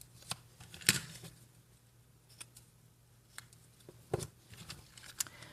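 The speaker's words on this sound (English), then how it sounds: "we're going to cut the other one in half and trim the points." Cardstock is cut in half and its points trimmed, giving quiet, sparse snips and clicks close by at irregular intervals over a faint low hum.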